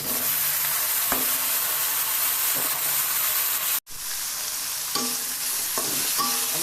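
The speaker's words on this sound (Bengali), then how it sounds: "এখন সবজি দিয়ে ভেজে নেবো" Vegetables fry in a pan with a loud, close, hissing sizzle, broken by a brief pause and a few spatula knocks against the metal.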